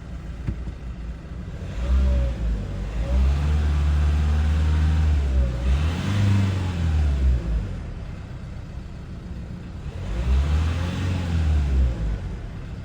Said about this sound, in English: car started